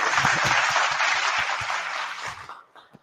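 An in-person audience applauds a toy drive manager, a strong burst of clapping that holds for a couple of seconds and then fades away quickly.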